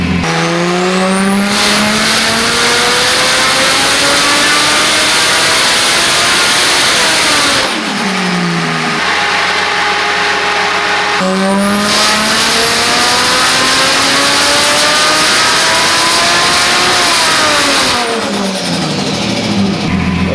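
A 1JZ-powered Toyota Chaser on a dyno, its engine screaming through long, loud full-throttle pulls that climb steadily in pitch, drop off briefly, then rev up hard again with no talking.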